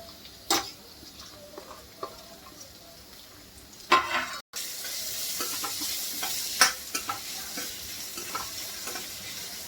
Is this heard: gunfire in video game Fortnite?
no